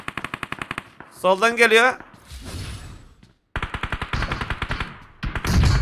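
Rapid bursts of machine gun fire crackle in an online shooter game, several short volleys separated by pauses, with a player talking between them.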